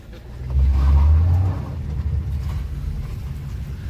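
A Hyundai Xcent and a Maruti Celerio running on petrol launch in a drag race, with a loud low engine roar that surges and revs hard, then settles into a steady rumble.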